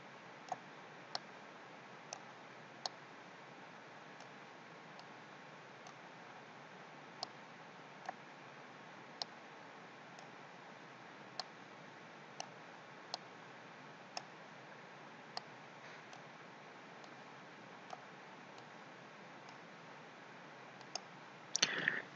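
Faint, sharp mouse clicks tick out one at a time at irregular intervals over a quiet room hiss while image thumbnails are dragged onto a grid in picture-sheet software, ending in a short cluster of quicker clicks.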